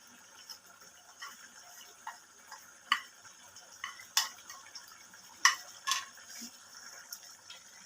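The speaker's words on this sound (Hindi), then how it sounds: "मसाले को अच्छी तरह से मिक्स कर लेते हैं।" A spoon stirring ground homemade masala into yogurt in a bowl for mutton karahi, giving light, irregular clinks and taps over a quiet background, with no talking.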